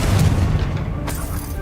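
A Confringo spell explosion in Hogwarts Legacy, one deep booming blast with a rumbling tail and a sharp crack near the end.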